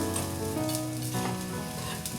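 Chana dal, urad dal, green chilli, cumin and ginger sizzle steadily in hot oil in a pan, a continuous close-up frying hiss with faint stirring, with no talking.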